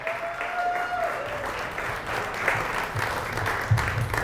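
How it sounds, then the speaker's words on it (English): A crowd applauds steadily, dense clapping filling the whole stretch at moderate loudness with no pause. "How about a round of applause for Anna and Renee, everybody?"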